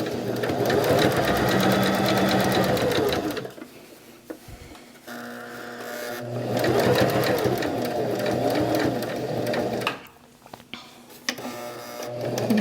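A sewing machine stitches quilt binding in two long runs of rapid, steady needle clatter. Brief pauses separate the runs, with small handling clicks and a short burst of backstitching at the end.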